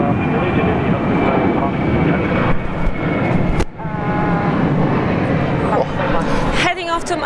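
A Virgin Australia jet airliner takes off at Sydney Airport with a sustained, loud engine roar that holds steady for several seconds, briefly dipping once. Voices talk over it throughout.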